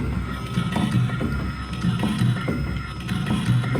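A grinding wheel sharpening a sawmill blade, dropping into each gullet: a steady mechanical hum with a regular, repeating pulse as the wheel moves tooth by tooth, close and fairly loud.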